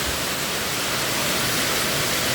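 Hail mixed with heavy rain pounds a roof during a storm in Eskişehir, a dense, unbroken roaring hiss at a constant level with no voices.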